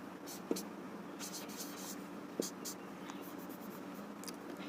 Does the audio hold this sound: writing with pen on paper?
yes